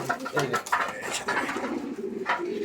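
Madrasi white-breasted pigeons coo softly and repeatedly close by, low throaty calls that overlap with faint clatter and a little background talk.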